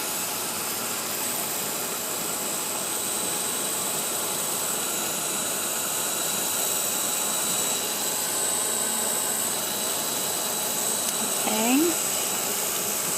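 A heat tool blows a steady, loud whirring hum while melting UTEE embossing powder in square and rectangular molds, a constant fan-like drone lasting throughout with a brief faint voice near the end.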